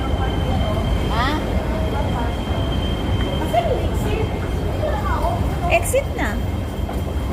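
LRT light rail train in Hong Kong, a constant loud rumble and rolling rail noise heard from nearby with some squeals, while people talk over it.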